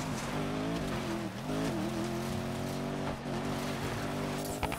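A race car engine drones steadily during a Hazard Company race at the Newhaven Circuit in Need for Speed Payback, with a continuous loud hum and brief dips where the revs change, alone without talk.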